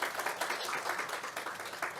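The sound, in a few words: audience applause for the panel on stage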